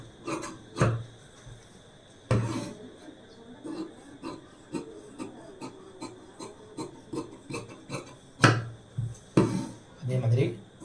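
Scissors cutting blouse lining fabric: irregular crisp snips and rasping slides of the blades through cloth, some strokes sharper and louder, with a quiet voice at times underneath.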